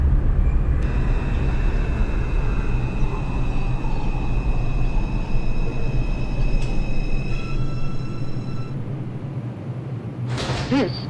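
An R142 subway train on the 2 line in Brooklyn, simulated in OpenBVE, rumbles steadily with a low rolling drone, a faint electric whine and high tonal hums, ending in a short burst of clattering noise.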